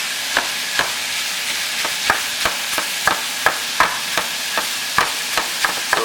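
Sausage sizzles steadily in a hot pan while a utensil repeatedly scrapes and taps as it mashes the meat into small pieces, giving sharp, fairly regular knocks over a constant frying hiss.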